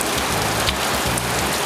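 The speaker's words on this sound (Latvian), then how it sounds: "Pirms Pīkas kalna mūsu ceļā pārsteidz spēcīgs negaisa lietus, vienā mirklī izmērcējot līdz ādai." Heavy thunderstorm rain pours down steadily during an enduro ride near Pīka hill, a dense, loud hiss of drops hitting surfaces throughout, close and unbroken, with no voices.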